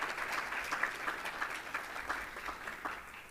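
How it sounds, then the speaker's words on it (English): Applause from an audience at a community college employee recognition and retirement ceremony, honoring 35-year service award recipients; steady, moderately loud clapping filling the room with no talk over it. "Let's give a round of applause to our recipients of 35 years of service"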